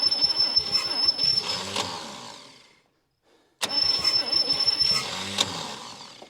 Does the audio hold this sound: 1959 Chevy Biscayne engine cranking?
yes